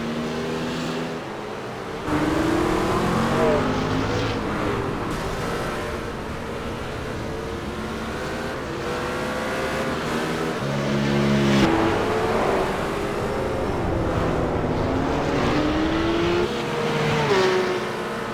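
A BMW race car's engine at the Race of Champions revs hard, climbing through the gears on track, with rising and falling whines and brief gaps at shifts, loud and sustained throughout.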